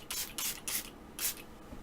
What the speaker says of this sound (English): Maybe spray some stuff on your face?